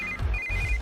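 A phone ringtone plays a short electronic beeping pattern, close and clear, with a low pulsing tone beneath.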